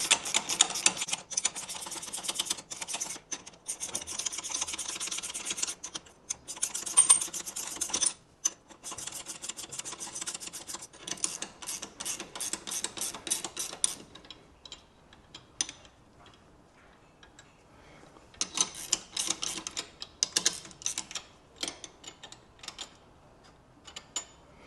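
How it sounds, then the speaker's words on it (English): Nuts on the U-bolts of a Land Rover Defender heavy-duty steering bar being tightened evenly, a close run of rapid ratcheting and rasping metal clicks in dense bursts with short pauses, no talking. "like with any U-bolt, nip it up evenly, or as even as you possibly can."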